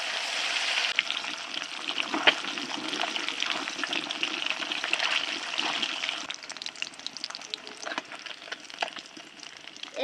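Pieces of silver carp frying in hot mustard oil in a kadai, a steady close sizzle and crackle with occasional spits and pops, running continuously without talk.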